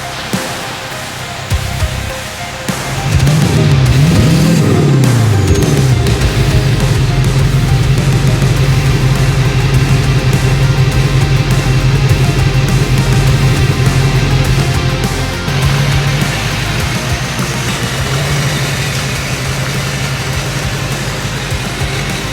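A Jeep Wrangler swapped with a 6.6 Duramax diesel pulls away, its engine note rising after a couple of seconds into a loud, deep, steady diesel drone with a brief revving sweep, staying close throughout.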